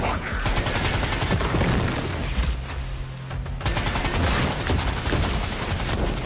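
Gunfire in the shooter game Project LLL, with a possible sniper shot among dense, loud bursts of shooting and booms that drop out briefly midway before the barrage resumes under voices.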